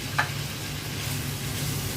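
Taro stolons and green chilies frying in an oiled pan, a soft steady sizzle with one brief clatter near the start.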